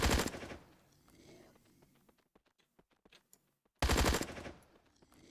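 Sawn-off shotgun fire in a Wild West video game, two loud heavy blasts at the start and end with scattered lighter cracks and faint rattles in between, close and punchy.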